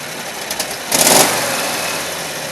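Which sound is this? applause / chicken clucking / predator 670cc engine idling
predator 670cc engine idling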